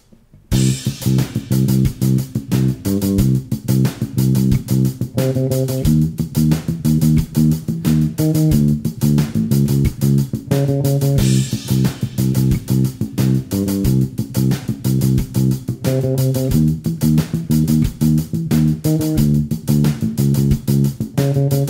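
A busy bass guitar line of quick sixteenth notes at 90 beats per minute locks in with a steady backing track of drums and chords, loud and continuous, no voices.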